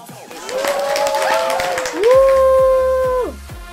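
Audience applause at a podium award ceremony, steady clapping through the first two seconds, then loud sustained tones swell over it before cutting off.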